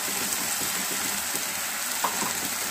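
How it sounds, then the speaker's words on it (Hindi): Chilli and tomato paste, being made for a momo chutney, sizzles in a frying pan with a dense, steady hiss and faint stirring movements, fairly loud and close throughout. "हम इसमें ऐड कर रहे हैं मिर्ची और टमाटर जो हमने पेस्ट बनाया था"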